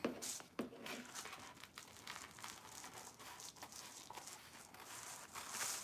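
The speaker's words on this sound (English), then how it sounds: "I'm going to cut that piece out." Scissors snipping and paper crinkling while cutting out a piece for a handmade Easter hat, quiet close-up rustles and irregular cuts.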